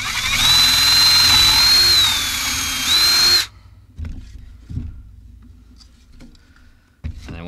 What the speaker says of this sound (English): I'm going to be drilling into the housing, being very careful to not let it rotate while I'm drilling